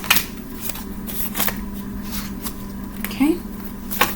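Tea leaf fortune cards are shuffled close up in a repeated series of quick riffling bursts, with a steady low hum underneath.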